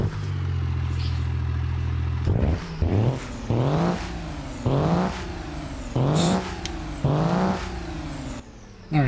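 A Cummins engine mod in a Ford D-series truck in the BeamNG video game starts with a steady idle, then revs loudly in about five sharp, rising bursts with brief drops in between.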